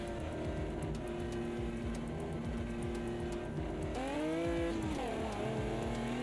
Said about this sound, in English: It's always nice to have a car that sounds angry.